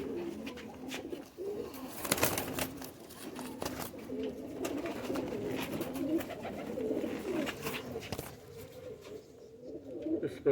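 A pigeon about five years old coos in soft, repeated phrases, fairly close. Faint background noise runs under the calls and brief clicks interrupt them.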